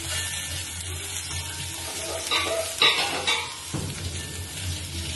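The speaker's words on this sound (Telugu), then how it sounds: "దీన్ని కూడా ఇప్పుడు వేపుకుందాం." Chili powder fried in a pan for crab curry, a soft sizzle with stirring scrapes that grow louder in short bursts midway.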